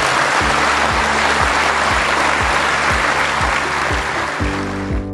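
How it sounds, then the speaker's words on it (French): A hall audience at a publicity event applauds its founder, steady loud clapping sustained throughout with a low rhythmic hum pulsing beneath it. "je voudrais que la salle réserve un tour d'applaudissement pour son créateur"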